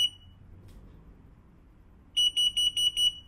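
A single electronic beep, then a quick run of six short, evenly spaced high-pitched beeps, clear and close against a quiet background, from a Hansshow V3 electric trunk controller on a Tesla Model 3.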